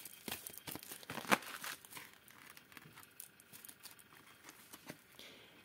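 Oracle cards being shuffled and drawn for a love reading, giving close crinkling, papery riffles and soft flicks, with one sharper snap early on and quieter rustles afterward, no speech.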